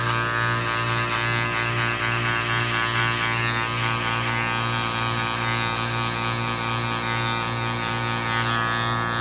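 Modified electric hair clippers buzz steadily throughout a bald fade haircut at a barbershop, a close, continuous electric hum with no talking.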